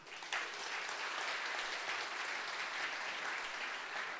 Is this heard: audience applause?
yes